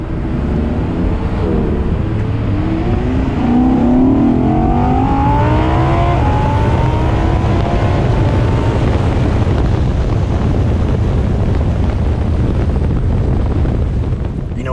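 A 2020 Audi R8 V10 Performance drives along, engine rising in pitch as it accelerates and then settling into a loud, steady road and wind roar heard from inside the cabin.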